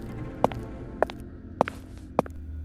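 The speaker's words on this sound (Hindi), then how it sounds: "छोटे पैरों की आवाज आई" Small footsteps in a horror story scene, four sharp, evenly spaced taps about half a second apart over a low, steady rumbling drone, distinct and fairly close.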